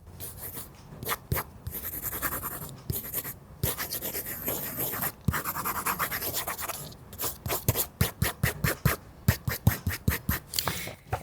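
Graphite pencil drawing on real paper, a dry scratchy rubbing that runs in bursts, then turns into quick repeated short strokes near the end, close and fairly quiet with no talking.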